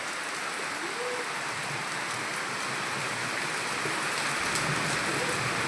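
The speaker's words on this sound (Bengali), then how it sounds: "আমাদের এখানে তো খুব বৃষ্টি শুরু হয়ে গেল দুপুরবেলা" Heavy afternoon rain pours steadily, a thick, even hiss of drops with no breaks and no voices, close and enveloping.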